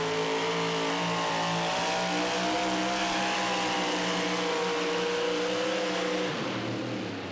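A 4WD pulling truck's engine roars at full power during the 2014 Pro Pulling League finals in Indianapolis, loud and steady with its pitch climbing gradually before dropping off abruptly near the end.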